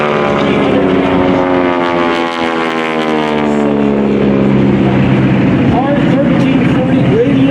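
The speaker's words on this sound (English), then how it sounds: "R1340 radial engine manufactured by Pratt & Whitney." A propeller airplane with a Pratt & Whitney R1340 radial engine drones loudly and steadily overhead at an airshow, its engine pitch sliding as it passes, with a voice talking over the noise.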